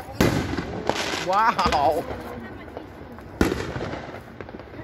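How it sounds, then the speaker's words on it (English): Fireworks bursting in the sky, loud booms and crackling in quick succession with a second blast near the end, while people nearby talk and exclaim over them. "These people spent some money on fireworks."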